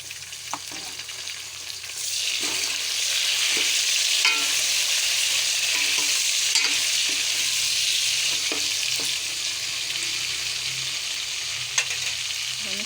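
Browned minced meat fries with tomato for a potato, mince and pea dish. The dense sizzle grows louder and fuller after a couple of seconds, with intermittent scraping stirs and occasional clicks throughout.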